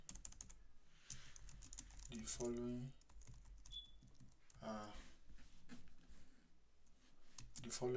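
Fingers tap a computer keyboard in quick, uneven bursts of soft clicks, close by, while someone talks intermittently over the typing.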